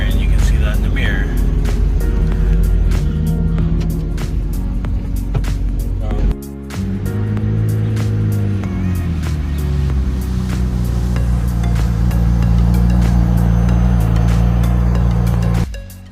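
A car cruising on a country road, with steady engine drone and road noise heard from inside the cabin, one brief dip in the middle, under a loud continuous rumble.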